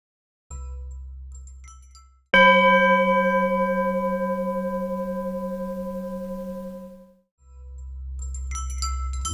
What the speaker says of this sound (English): Oh, hang on, I hear a doorbell.